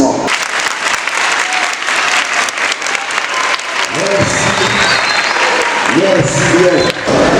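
Thunderous audience applause at a school principal's speech in a college hall, loud dense clapping sustained throughout, with voices and cheers rising from the crowd in the latter half.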